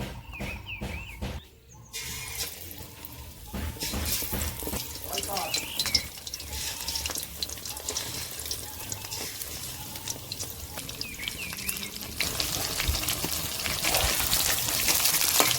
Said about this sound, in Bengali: এবার এর মধ্যে ডুবে ডুবে একটা করে মাছ ছেড়ে দেবো তেলের উপরে